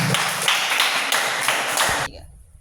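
Classroom applause for a presenting student group, a steady burst of many hands clapping for about two seconds before cutting off.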